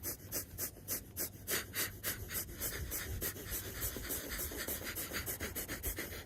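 Rapid, forceful pranayama breathing through both nostrils, with sharp rhythmic exhalations repeating steadily for several seconds, close and fairly loud, with no talking.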